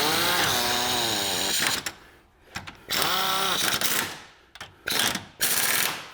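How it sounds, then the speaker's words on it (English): Pneumatic air gun rattling bolts tight on a Land Rover Freelander wishbone, several loud close bursts of rapid hammering separated by short pauses. "I'm just going to shoot these up with the air gun just to make my life a bit quicker"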